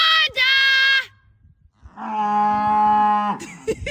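Farm cows mooing: two long, loud, close moos, the second deeper and drawn out, separated by a brief pause with light rustling.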